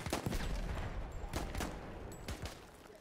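Rapid gunfire crackles through a gunfight in the video game Battlefield 1, with several sharp bursts and overlapping shots over about three seconds, loud and dense with no talking.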